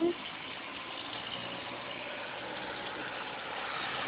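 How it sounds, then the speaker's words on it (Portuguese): A tractor engine runs steadily while spraying water, a continuous broadband rumble and hiss at moderate distance that stays even throughout. "Olha o trator lá. Tá molhando."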